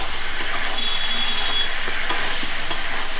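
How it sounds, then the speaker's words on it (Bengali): Young jackfruit curry being stir-fried in a pan, a steady close sizzle with occasional scraping stirs throughout, no talk. "এইটা যেমন ভালো করে কষবে এঁচড়টা দুর্দান্ত হবে"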